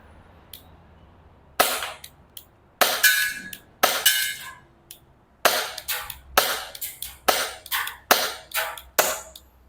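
A Tokyo Marui Bodyguard 380 airsoft BB pistol with a fixed slide fires at targets about ten metres away. About a dozen sharp, close pops come first in a spaced-out series, then in a faster run.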